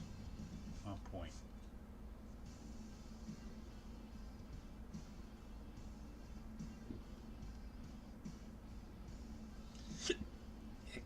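A person hiccups a couple of times during a live drawing and coffee session, the hiccups short and faint over a steady background hum.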